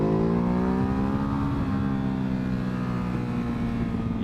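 A 2019 Ducati Hypermotard engine in sport mode drones loud and steady, its pitch climbing gradually as the bike accelerates, with wind roar underneath and no talk.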